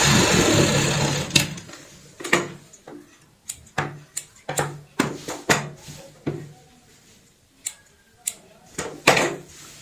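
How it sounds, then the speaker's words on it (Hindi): Sewing machine stitching fabric pieces of a designer bed sheet, a close run of whirring at the start and then a series of short mechanical bursts with clicks and pauses between them, no talking. "इस साइड में भी सिलाई इसी तरीके से लगाएंगे।"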